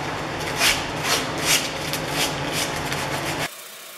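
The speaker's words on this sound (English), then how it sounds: "Now on to hand sanding." Steady rasping of 100-grit sandpaper rubbed by hand back and forth over wood, close up, with rhythmic strokes for a few seconds before stopping abruptly.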